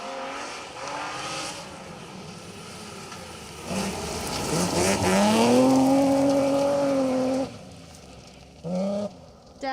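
A BMW rally car races past on a special stage of the Cambrian Rally, its engine rising to a loud, close revving sweep that peaks mid-pass, then cuts out abruptly, with a brief second burst near the end.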